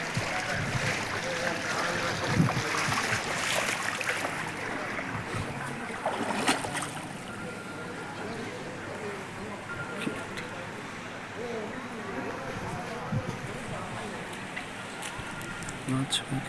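Broad rushing floodwater from heavy rain flows steadily throughout, like a current running through a street in Dubai, with a voice talking over it at times.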